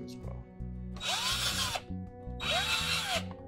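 A power drill whirs in two short bursts, each rising and falling in pitch, as it loosens a screw on a GFCI outlet, close by over steady background music.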